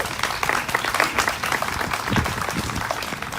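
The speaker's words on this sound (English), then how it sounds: "Round of applause, please." An audience at a morning community charity walk event applauds, a continuous patter of many hands clapping at moderate volume that carries steadily throughout.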